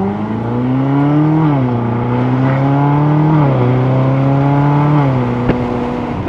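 Ferrari California V8 with a DCT gearbox on the move: a steady, smooth engine drone close by that dips and climbs through a few gear changes.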